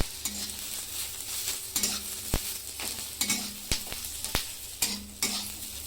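Garlic and green chilies roast in a pan for a Maharashtrian thecha, a soft sizzle punctuated by sharp scraping stirs and clinks at an irregular rhythm, close and moderately quiet, without speech.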